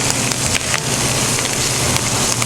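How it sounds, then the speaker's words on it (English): Food sizzles and crackles while being tossed in a hot pan, a dense, loud, continuous frying hiss with small pops throughout and no talk. "you want to hear all this crackling, you want to hear all this. This is good noise."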